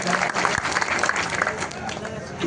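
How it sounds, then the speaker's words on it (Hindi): Audience applause welcoming a legislator at a political gathering in India, a dense steady patter of many hands clapping at moderate distance, with crowd noise and voices mixed in. "जोरदार तालियां बजाकर एक बार और स्वागत करें"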